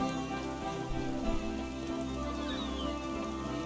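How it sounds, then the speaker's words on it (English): Rain patters steadily in the Spiritfarer video game, a soft continuous hiss layered over quiet ambient game music. "So it's raining now"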